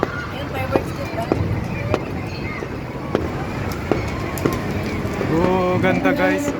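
Fireworks burst at a fair in Parañaque, a series of sharp booms spaced roughly every second over a steady crowd murmur, with people talking nearby toward the end.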